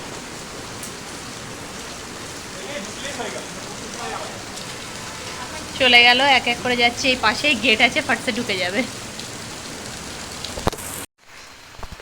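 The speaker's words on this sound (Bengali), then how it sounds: "বিপত্তারিণী পুজোর দিন আবার বৃষ্টি শুরু হয়ে গেছে, ঝমাঝম বৃষ্টি হচ্ছে" Heavy rain pours steadily during a Bipodtarini puja outing, a dense continuous hiss running underneath people talking nearby before cutting off abruptly at the end.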